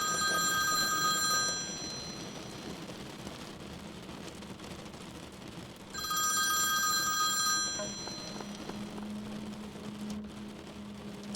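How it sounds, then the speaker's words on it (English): An old-fashioned rotary telephone on a nightstand rings on a rainy night. Two long bursts of bright, rattling bell rings are separated by a pause, set over steady rain-like background noise, with no talk. "the old-fashioned rotary phone on the nightstand. Out of place, but nothing to worry about until it rang."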